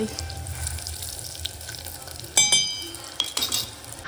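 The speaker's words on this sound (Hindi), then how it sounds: "काजल ने रोटी नहीं खाई है तो मैं इसके लिए कबाब फ्राई कर रही हूँ" Kebabs frying in a pan at home, a soft sizzle with metal clinks and scraping from a utensil stirring them, close by.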